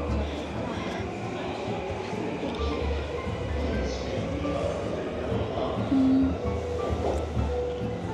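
Tokyo train rumbling along steadily with a low continuous hum and faint rail clatter, heard from inside a busy carriage while people talk nearby throughout.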